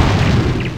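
A single deep, booming cannon blast from a sailing ship's broadside in the strategy game Anno 1602, heavy and low, with no voices.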